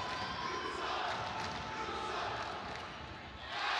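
A crowd roars steadily in a college basketball arena during an Albany versus Hartford game, a dense sustained cheer that swells again near the end.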